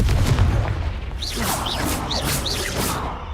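Confringo spell explosions in Hogwarts Legacy: a low, booming blast rumbles over a sustained noisy background, with several short whooshing magical cues repeating at steady intervals.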